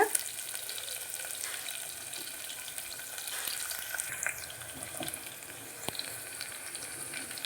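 Onions for a vegetable biryani sauté in a pan, a steady broadband sizzle with occasional stirring clicks, fairly close and even throughout, with no speech.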